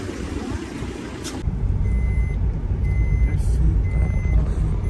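A vehicle backs up with a regular series of high reversing beeps sounding over a heavy engine rumble that grows louder after a sharp clatter, with some talk in the background.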